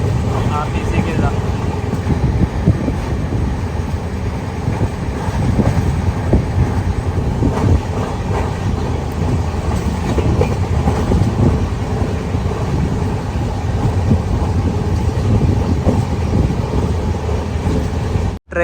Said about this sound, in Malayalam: ട്രെയിൻ ഇപ്പൊ ചിക്കബണാവ് റെയിൽവേ സ്റ്റേഷനിലെത്തി.